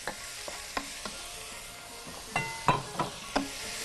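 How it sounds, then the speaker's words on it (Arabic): Small meat pieces sautéing with garlic in a pan for green beans with meat, a soft sizzle with irregular scraping stir strokes and clinks, close and without talk. "هشوحه بقى تشويحة حلوة كده"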